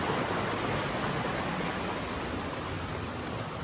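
A creek rushing around both sides of a boulder beneath a bridge, a steady, loud broadband wash of flowing water that holds constant, close and alone throughout.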